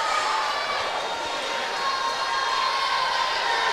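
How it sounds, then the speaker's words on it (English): At a high school basketball district final, the crowd in the gym roars and applauds steadily, a dense, even wash of cheering that continues throughout. "he gets a nice round of applause from the crowd there"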